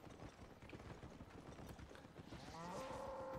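Cow mooing in the Albion Online video game: a short, tonal moo rises near the end over a busy bed of game ambience with clip-clopping hoofbeats and shuffling.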